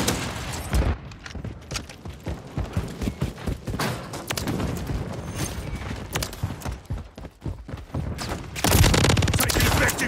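Heavy gunfire bursts in Call of Duty Modern Warfare 3 during a Kill Confirmed match, loud close automatic fire with booms and clattering footsteps, radio chatter and voices mixed in.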